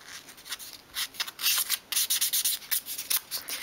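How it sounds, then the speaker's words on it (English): Fine-grade sandpaper rubs across the top of a miniature 1/12 scale wooden kitchen work table in quick, repeated strokes, close and fairly quiet, with a steady scratchy rhythm. "still using the fine grade sandpaper, sand the whole top."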